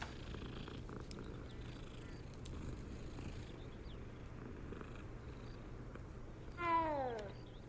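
A cat in Hogwarts Legacy purrs faintly under steady game ambience, then lets out one short, clear meow near the end.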